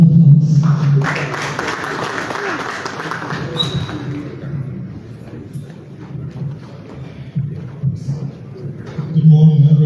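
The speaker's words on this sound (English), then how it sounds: "Can we please give a round of applause?" Applause rises at a formal launch ceremony for a five-year strategic plan, a short burst of scattered clapping fading after a few seconds, with microphone rumble and a speaker's voice following.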